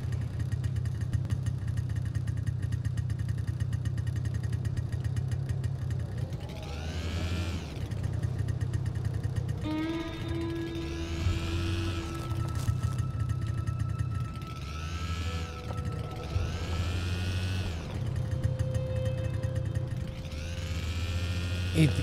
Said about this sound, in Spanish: llevar la moto de nieve a estas horas